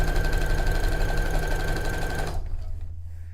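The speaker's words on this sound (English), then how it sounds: "2 steps back, and then I get sewing. This is called a lock stitch." A sewing machine running a lock stitch on a cape/dress project, with a loud steady mechanical whir and rapid needle rhythm that stops abruptly after about two seconds, leaving faint room noise.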